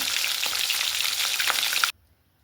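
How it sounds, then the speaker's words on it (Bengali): A large fish head frying in hot mustard oil gives a loud, crackling sizzle with a few spatters, then cuts off suddenly into near silence. "প্রথমে মাছের মাথাটা ভেজে নিচ্ছি"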